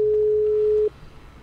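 In GTA V, a dropped phone call sounds as a single steady electronic beep tone, loud and close, that cuts off abruptly, leaving quiet background noise.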